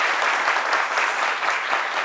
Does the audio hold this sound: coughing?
no